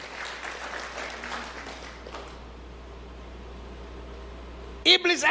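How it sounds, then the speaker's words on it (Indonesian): Church congregation applauding, a soft, diffuse clapping in the first couple of seconds that fades into a quiet hum and room noise, with a short loud knock near the end. "Berikan tepuk tangan yang meriah buat Tuhan."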